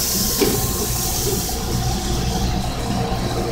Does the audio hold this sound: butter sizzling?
yes